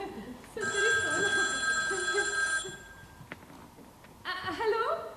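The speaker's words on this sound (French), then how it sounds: "C'est rien, c'est le téléphone." A telephone bell rings loudly in a long, steady burst, breaks off, then starts ringing again near the end, with a voice speaking faintly underneath.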